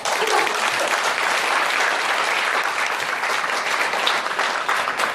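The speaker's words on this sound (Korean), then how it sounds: "여러분을 위해서 큰 박수 한번 쳐드려요" Seminar attendees give a big round of applause, with loud, dense, continuous clapping from a sizeable crowd for the whole stretch and no voices over it.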